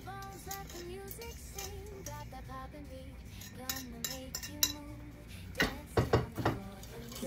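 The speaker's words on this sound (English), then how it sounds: "And I whisk this in." A utensil whisks chunky brown sugar and bourbon in a bowl, giving light clinks and taps that grow denser toward the end, all under soft tonal background music.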